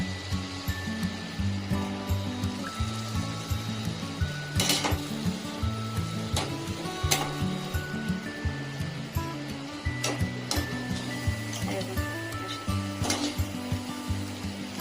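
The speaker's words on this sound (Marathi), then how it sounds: "अशा ह्या आपण एक एक सगळ्या तळून घेऊया." Sweet chillies frying one after another in hot oil give a steady, dense sizzle and bubbling hiss that runs the whole time, with a few sharper crackles and spatters breaking through now and then.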